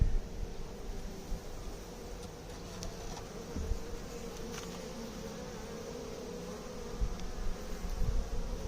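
Honeybees swarm around an open Langstroth hive as frames are worked, a dense, continuous buzz close to the microphone that holds steady throughout with no talk.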